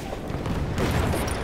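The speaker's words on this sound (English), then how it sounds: "Oh, that's a grenade." A grenade explodes in the World War I shooter Battlefield 1, a loud, dense burst of broadband rumble that swells halfway through and holds to the end amid ongoing battle noise.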